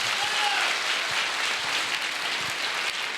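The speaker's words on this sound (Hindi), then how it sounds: "प्रजापति जी, जोरदार तालियां" Loud, sustained applause from a crowd at a company's first anniversary event, dense continuous clapping with no break.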